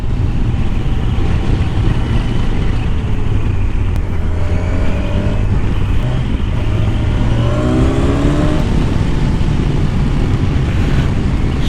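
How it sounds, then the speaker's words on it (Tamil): A Kawasaki Ninja 1000SX inline-four motorcycle engine drones steadily on an early-morning ride, largely buried under heavy wind roar, its pitch shifting and rising toward the end. "காலையில் அந்த இன்லைன் 4ஓட சவுண்டு கேட்குறதே என்ன ஒரு தனி சுகமாக இருக்குங்க."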